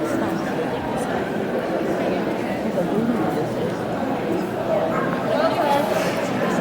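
Dogs at an outdoor dog show in Wrexham, Wales, yip and bark now and then amid a busy crowd, with people chatting nearby.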